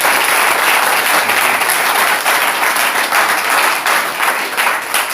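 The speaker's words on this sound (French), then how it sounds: "Applaudissez alors pour le Seigneur." A church congregation applauds loudly and continuously, a thick wash of many hands clapping together for several seconds with little else audible.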